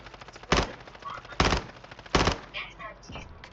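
Gunfire from the video game Warzone: three loud, sharp bursts at roughly even intervals stand out over quieter game sounds and faint talk in the background.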